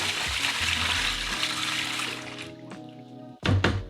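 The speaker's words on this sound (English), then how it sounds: "And then we'll pour the rest of the brine" Brine poured over a bone-in turkey breast inside a food-safe bag: a steady, close liquid rush and gurgle that tapers off, followed by a couple of sharp bag or container knocks at the end.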